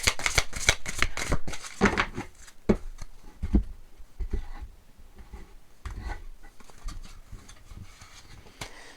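Lenormand cards being shuffled and drawn by hand: dense, rapid papery riffling bursts up close at first, then sparser soft slides and taps as single cards are handled.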